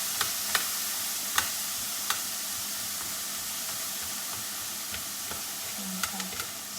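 Frozen vegetables sizzle in a pan, a quiet steady frying hiss broken by occasional soft clicks and stirring taps, close by and with no talking.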